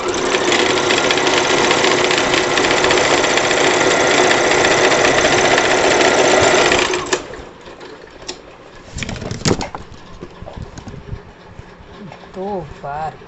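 A sewing machine stitching a salwar runs at a fast steady whir for about seven seconds, loud and close, then stops, leaving quieter handling sounds and a voice.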